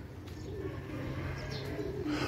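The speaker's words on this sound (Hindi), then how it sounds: "ये देखें कबूतर मेरे ऊपर दाना खा रहे हैं" Soft pigeon coos murmur over a steady low background hum, close by, with a faint chirp near the end.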